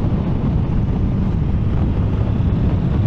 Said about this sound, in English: And it's pretty windy.